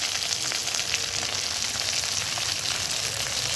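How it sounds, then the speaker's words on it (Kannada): Mint, coriander leaves, green chilli, cinnamon and cloves fry for a nati-style biryani, making a loud, continuous close-up sizzle with no talking. "ಹಸಿಮೆಣಸಿನಕಾಯಿ, ಚಕ್ಕೆ ಮತ್ತು ಲವಂಗ ಹಾಕ್ಕೊಂಡು ಚೆನ್ನಾಗಿ ಫ್ರೈ ಮಾಡಿ"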